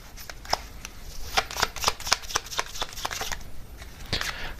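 Oracle cards being shuffled by hand, a run of crisp riffling flicks and soft taps close up, steady and uneven in rhythm, with no talking over them.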